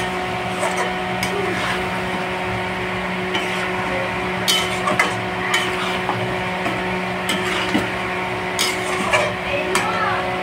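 Mutton stirred and sautéed in a pot with oil and gravy for a spicy curry, with steady scraping and clinking of a spoon against the pot over a continuous background hum, plus faint talk.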